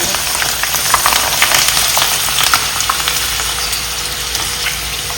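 Papad frying in hot oil in a village kitchen, a steady dense sizzle with crackling pops running throughout at close range, with no voices.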